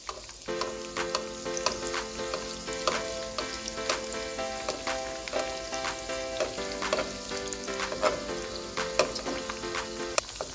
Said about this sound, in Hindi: 2 से 3 मिनट के लिए एक साइड पर हम इनको फ्राई करेंगे।